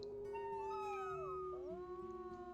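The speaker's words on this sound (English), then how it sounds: "Oh, somebody's howling out there." A wolf howls in the WolfQuest video game, a long sustained tone that rises and bends through several overlapping pitch glides, carrying steadily for a few seconds with no talking over it.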